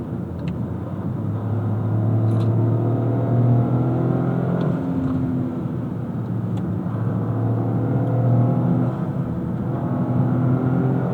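A 2025 Toyota GR Corolla Premium with a 300-horsepower engine climbs a hill in manual mode, its engine droning and rising steadily in pitch through gears inside the cabin, with no talking.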